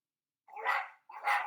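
Two separate barks from a dog indoors at home, each a short rough burst with a gap of silence between them, fairly close and moderately loud, with no voices.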